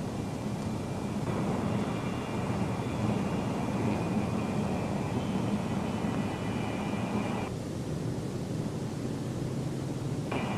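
A Boeing B-47 Stratojet six-engined jet bomber lifts off, its engines a steady, droning roar that holds level for several seconds before the upper whine briefly drops away, with no voices.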